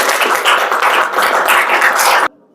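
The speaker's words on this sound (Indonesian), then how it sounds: "Tepuk tangannya mana dulu?" Students in a classroom clap their hands together in a quick, steady rhythmic burst, loud and close, ending abruptly.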